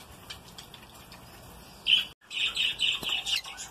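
Budgerigar parents and chicks in a nest box give short, high chirps, sparse at first, then a quick run of bright repeated tweets close by.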